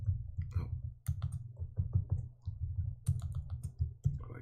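Typing code on a computer keyboard, a brisk series of soft, close key clicks in uneven bursts with short gaps, fairly quiet and heard alone.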